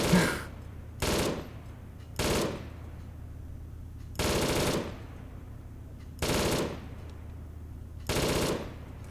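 Bursts of machine gun fire in the ARMA 3 Cold War Germany combat game, six separate volleys spaced roughly a second or two apart, each a dense rattling burst, loud and close against a quiet background.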